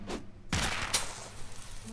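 Fireworks go off in the South Park: The Fractured But Whole video game, a loud burst of crackling explosions followed by a sharp bang and a lingering rumble.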